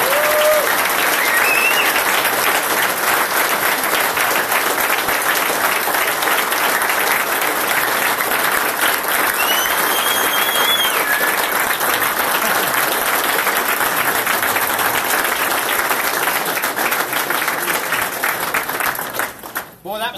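A crowd applauds professional drivers at a driver appreciation event with sustained, loud clapping and scattered cheers, continuing for nearly twenty seconds before tapering off, with a voice briefly heard at the end.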